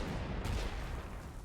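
Artillery fire in the strategy game Panzer Corps 2 gives a dull, rumbling blast that booms near and loud, then holds as a low sustained roar over about a second and a half.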